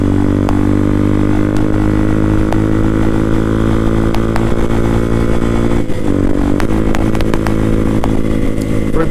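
A Yamaha TT250 dual-sport motorcycle engine drones steadily and loudly throughout while riding through town, with occasional clatter and slight shifts in pitch.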